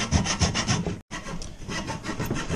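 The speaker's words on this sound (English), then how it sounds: "I am sawing this shit out." A hand saw cuts a notch in wood for a drawer slide guide on a custom cabinet in a school bus conversion, with close, rhythmic back-and-forth strokes and one brief pause.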